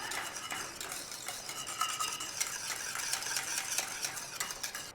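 A utensil stirs a custard-style egg dessert mixture in a pan over a gas flame, giving close, repeated light scraping and clinking strokes at an uneven rhythm with no talk.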